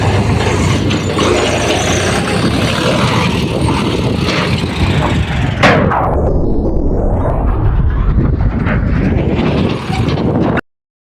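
Tractor engine running loud and close, a dense continuous roar with a sweeping pitch change midway, then cutting off abruptly at the end.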